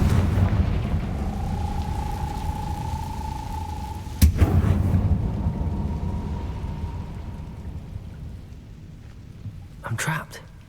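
Blasting-spell explosions in a video game: a sharp boom around the middle cracks over a steady droning background, with a smaller burst near the end, while a voice talks low underneath.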